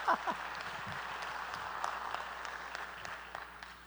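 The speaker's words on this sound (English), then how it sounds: "Give him a round of applause." A keynote audience gives soft, steady applause, distant and even, with a few voices over it at the start.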